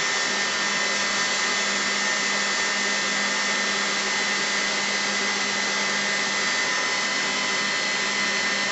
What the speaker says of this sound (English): And I like to let the heat gun do most of the work.